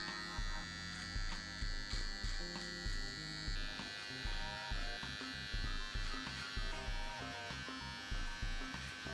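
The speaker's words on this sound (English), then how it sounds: "I'm going to just get along my mustache, just a tad, with the trimmer" An electric trimmer trims a mustache during a self line-up haircut, its motor buzzing close and loud in short, repeated pulses as it moves along the hair.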